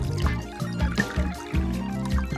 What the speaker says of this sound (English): We're going to add one cup of water, dump the whole thing in.